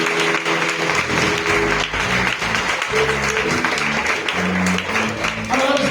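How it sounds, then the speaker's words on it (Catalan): Applause from a concert audience at Cal Calissó in Castellar del Vallès. Steady clapping fills the whole stretch, dense and close, with a few voices mixed in. "Doncs dedicada a Lluís, una abraçada i un aplaudiment."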